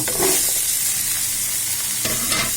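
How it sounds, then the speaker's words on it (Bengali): Pumpkin pieces being stirred into prawns frying in oil: a steady broadband sizzle with scraping spoon strokes, one near the start and more around the two-second mark, close and moderately loud, with no talking. "মিষ্টি কুমড়াগুলো কিছুক্ষণ আনুমানিক 2 মিনিটের মতো নাড়াবো"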